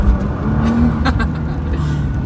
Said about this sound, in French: C'est un bruit de transmission en fait que t'entends.